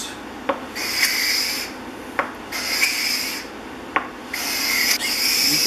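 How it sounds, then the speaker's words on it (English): A Stanley No. 85 cabinet maker's scraper plane scraping a wood panel in repeated rasping strokes, each pushed stroke about a second long with a soft knock at its start, close and moderately loud with no voices. "Hear the scraper doing its work."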